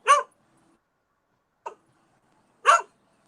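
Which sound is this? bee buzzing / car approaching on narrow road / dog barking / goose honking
dog barking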